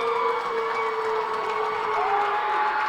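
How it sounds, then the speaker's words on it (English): A high school crowd cheers loudly for Medway at a girls hockey playoff game in an ice rink, a sustained roar of voices and shouting with a steady whistle-like tone running through it. "This Medway crowd is pumped."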